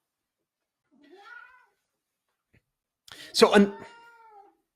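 An elderly cat meows twice up close: a short rising-and-falling harmonic call first, then after a pause a louder, longer, wavering yowl, with a man's brief word overlapping the second cry.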